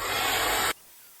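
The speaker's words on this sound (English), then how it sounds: "So I'm going to heat it up, because when you heat it up, it warms up the glue" A heat tool hisses steadily at close range while warming the glue on a hardcover book cover, a loud broadband rush that cuts off abruptly after under a second, leaving near silence.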